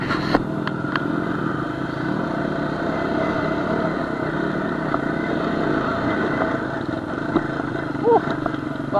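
A CR250 dirt bike engine drones steadily from mid-distance through the whole stretch, with clattering and a few whoops and shouts from onlookers over the riding.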